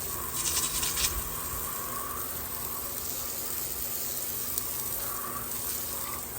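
Water sprays over a worn work truck tire during rinsing, a steady hissing spray from close by with a brief louder splashing burst near the start.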